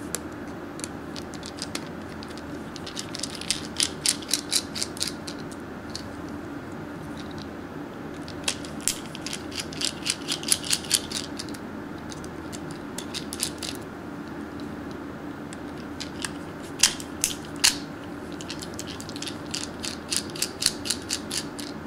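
Small screws being backed out of a Droid Maxx, Ultra or Mini (XT1080) smartphone during a teardown: faint, rapid ratcheting clicks in short bursts over a low steady hiss, close and quiet, with no talking.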